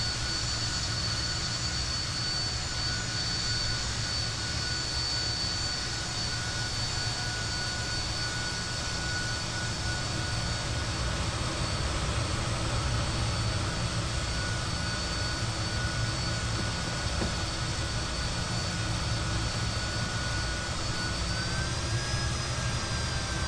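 Fokker F28 jet engines in the MSFS 2020 flight simulator whine steadily with a high tonal hum over a broad low roar, sustained and even throughout, with no talking.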